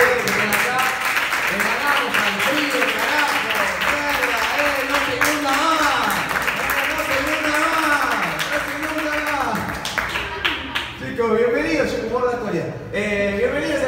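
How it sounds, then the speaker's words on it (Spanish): Audience applause at a stand-up comedy show in an auditorium café, a sustained crowd roar of clapping and cheering lasting over ten seconds, loud and dense, with voices mixed in and tapering toward the end. "Un aplauso para todos ustedes."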